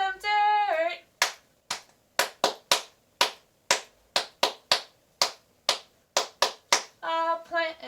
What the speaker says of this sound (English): we're clapping 5 times